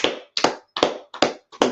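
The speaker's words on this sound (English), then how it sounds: "Clap it up for class tonight." Applause for a class at an evening gathering: about five sharp, close hand claps in a steady, evenly spaced rhythm over less than two seconds, with brief silences between them and no speech.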